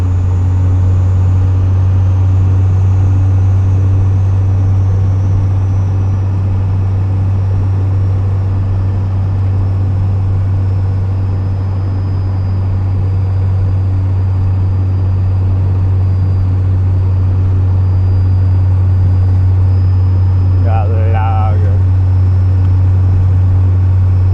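A vehicle with a newly fitted diesel engine cruising along a road by the John Day River, heard as a loud, constant low engine drone and road rumble from inside the cabin, with no talk.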